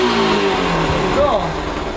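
A motorcycle engine fitted with a 28mm Nibbi racing carburetor revs steadily up close, its throttle rising and falling under people talking over it.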